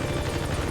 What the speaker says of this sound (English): Enemy chopper's on the way, P-Quad.